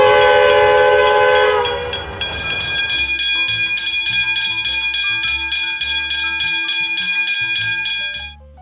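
A crossing bell rings in a steady, rapid rhythm with bright metallic tones, loud and close, preceded by a train horn blast.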